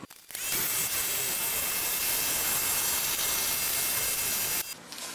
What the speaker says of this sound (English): then I'll just cut that off on the scroll saw